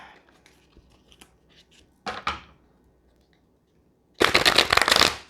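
Tarot cards are shuffled in two brisk riffling bursts, one short and one longer, separated by quiet handling clicks; no one speaks.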